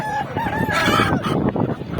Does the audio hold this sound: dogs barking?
no